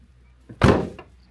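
A 2015 Subaru Legacy door shuts with a single solid thunk followed by a brief rattling buzz from loose door skin, close by in a quiet setting.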